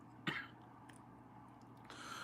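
A single short cough bursts out near the start, close and fairly loud, then low background hum continues with no speech.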